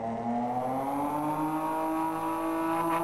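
A turbocharged 2JZ engine in a racing video game accelerates hard, its tone rising steadily in pitch through a gear with a whirring turbo layer, loud and unbroken with no talk.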